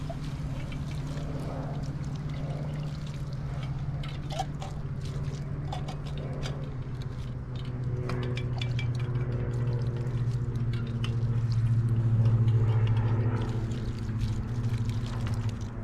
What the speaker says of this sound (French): Profitez-en pour rincer les ustensiles en même temps.